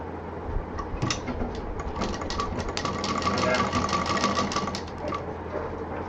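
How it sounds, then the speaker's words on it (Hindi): A sewing machine stitches a zip and fabric together for a double-pocket tote bag, its needle running in a fast, even, close rattle for several seconds, with brief starts and a low motor hum. "अब इसको उठा के हम सिल देंगे"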